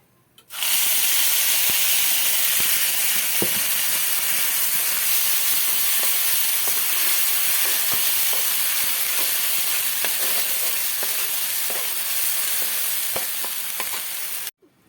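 Ground spice paste frying in hot oil with black cumin seeds, a steady loud sizzle that starts abruptly and runs unbroken with faint stirring clicks, then cuts off at the end.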